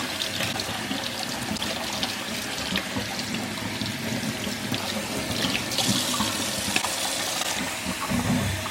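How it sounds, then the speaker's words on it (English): Water runs steadily from a tap as salted cucumbers for kimchi are rinsed, a continuous splashing flow with small surges and clatters from handling. "Rinse salt completely, and then drain all the water."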